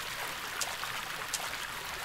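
Waterfall in the video game Rake, a steady broadband rush of falling water heard alone, with a couple of brief brighter splashes.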